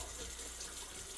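A tap runs steadily into a sink during a wet shave with Cremo products, a faint broadband hiss of flowing water filling the short moment with no talking.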